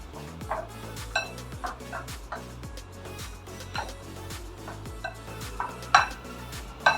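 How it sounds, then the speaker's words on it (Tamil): Boiled, peeled potatoes being mashed with a masher in a pot, giving repeated soft thuds and metallic scrapes in an irregular rhythm, close and moderately loud. "பாயில் பண்ணி தோல் உரிச்சு வச்சுருக்கிற இந்த பொட்டேட்டோவை இதில் சேர்த்துட்டு நல்ல ஒரு மேஷர் வச்சு மேஷ் பண்ணிடுங்க"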